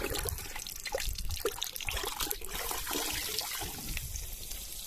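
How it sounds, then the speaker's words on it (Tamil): Water running and splashing steadily while curry leaves are rinsed for a country chicken curry, a continuous close trickle and pour with no talking. "கருவேப்பிலையை அலசி போட வேண்டும்"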